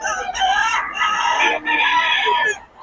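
Young gamecock stags crowing close by, with strained and uneven cock-a-doodle calls following one another in quick succession.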